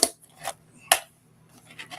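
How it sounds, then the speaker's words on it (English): A container handled at close range gives a few sharp clacks and light rattles in quick irregular bursts, fairly faint, with no talk. "sorry about the container noise."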